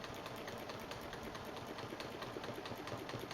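A sewing machine stitches grid lines on a basket-weave quilt, a steady rapid mechanical whir with even needle ticks, close and continuous with no talking.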